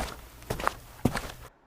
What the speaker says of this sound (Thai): ผมได้ยินเสียงฝีเท้าคนเดิน